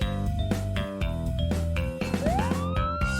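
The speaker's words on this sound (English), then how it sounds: "Police car helps officers catch the bad guys." A police siren wails and rises in pitch over a loud rhythmic music backing, sounding close and prominent.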